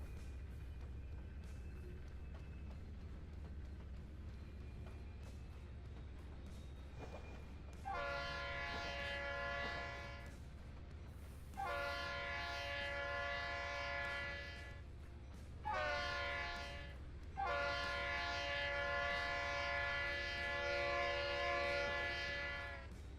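An Amtrak train on a model railroad layout sounds its horn in four chord blasts, the later ones longer, over a low rumble of running track noise.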